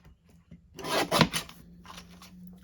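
Scissors snip and rasp through card stock for a handmade stamped card, a short burst of cutting strokes close by in a quiet room.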